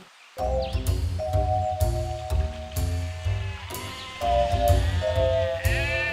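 Cartoon goat bleats from an animated Hindi children's moral story about a sick, aging goat, wavering repeated cries heard loud and close over a music bed, with no talk.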